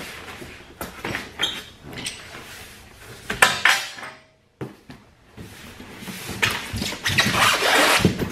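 Metal clamps for an Evolution S355MCS mitering chop saw being lifted out of the box, with clinking metallic clatters and rustling handling noises, close and irregular, plus a brief silent pause.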